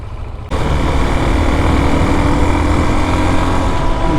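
A Chinese CG motorcycle engine with a newly installed Nibbi PWK carburetor on a test ride. After a brief quieter start, a loud, steady engine drone with wind rush holds close and constant.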